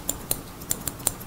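Hair-cutting scissors snip soft hair during a clipper-over-comb haircut in a salon school: five crisp, close metallic snips at an uneven pace, with no talk.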